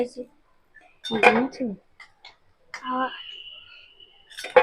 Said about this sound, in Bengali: আওয়াজ হচ্ছে প্লেটের মধ্যে ফেলছে আওয়াজ হচ্ছে